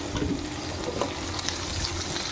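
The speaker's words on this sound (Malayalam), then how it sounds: "എല്ലാം കൂടി ചേർത്ത് നമുക്ക് വഴറ്റി വെക്കാം." Vegetables sautéing in a hot pan, a steady close sizzle with faint stirring scrapes running throughout.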